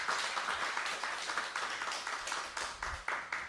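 Church congregation at a Korean Sunday worship service clapping in agreement, a faint, steady patter of many hands in a room.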